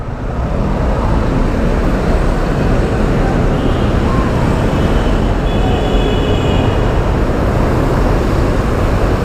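A dense, steady rumble of traffic with an LRT light rail train rolling past, continuous and fairly loud throughout, faint high tones drifting over the noise.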